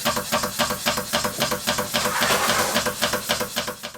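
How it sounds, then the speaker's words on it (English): A worn Stuart beam engine before repair chuffs and clanks in a fast, regular rhythm, loud and close, with no talking. "here's what the engine sounded like when I first got it to fix."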